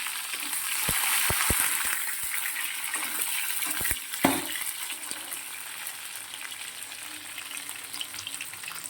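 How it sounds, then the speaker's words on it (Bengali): Potatoes fry in hot oil in a wok, giving a steady, close sizzle with a few sharp clinks and stirring knocks early on and one louder scrape midway. "আলুটা প্রায় ভাজা ভাজা হয়ে গেছে"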